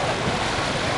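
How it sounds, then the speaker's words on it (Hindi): Fast-flowing flood water in Karachi rushes in a loud, continuous roar that fills the whole moment without a break, close to the microphone and with no one talking. "पानी का बहाव बहुत तेज है इस वक्त"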